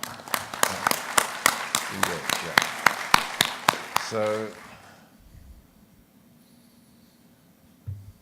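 A short run of steady, evenly paced claps at an open-microphone members' meeting, fairly close and distinct, stopping abruptly and leaving a quiet room with a faint thump at the end.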